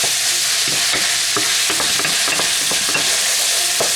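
A spoon scrapes and clicks in steady, uneven strokes as cayenne and black pepper are stirred into a Cuban potato ball mixture, with a soft sizzle-like hiss running underneath throughout.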